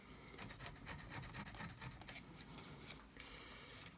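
Close, quiet scratchy rubbing as emery paper roughens a TV antenna socket before soldering, in short repeated back-and-forth strokes with no talking.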